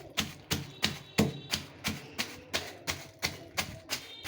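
Spring onion stalks and green chilies crushed in a pounding vessel, a steady run of about a dozen sharp, close thuds at an even, quick rhythm with no talk.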